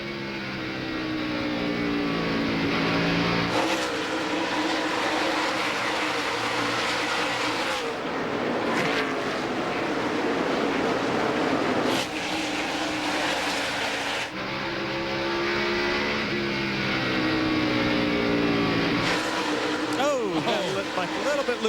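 NASCAR stock cars roaring around the track at the 2001 Sharpie 500, a dense pack of engines rising and falling as cars pass, with a commentator talking over the racing.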